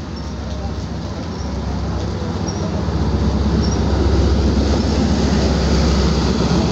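Pak Business Express hauled by a ZCU 30 locomotive rumbles past at Malir railway station in Karachi, a steady roar that grows louder over several seconds amid rain.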